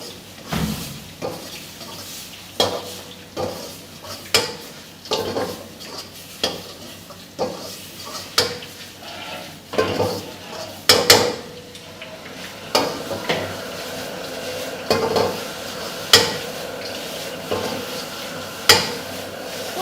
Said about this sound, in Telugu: సో మసాలాస్ అన్నీ ఆయిల్ ఫ్రై అయిపోయినాక సో ఫైనల్గా చికెన్ అయితే వేసేసారు మనం ఇందాక ఫ్రై చేసుకున్న చికెన్ని.